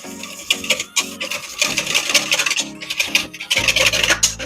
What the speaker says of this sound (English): Quick whisk of the garlic powder.